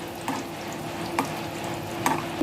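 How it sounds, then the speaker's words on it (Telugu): Mustard seeds, cumin and lentils fry in hot oil with a steady sizzle, crackling throughout, and a few sharper pops or stirring clinks stand out at intervals. "కొంచెం వేగనిద్దామండి వీటిని."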